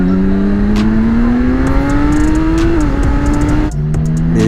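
A BMW K1600 six-cylinder touring motorcycle engine pulls hard from the rider's seat, its tone climbing steadily through a gear, dipping at a shift, then rising again, loud and close with wind rush.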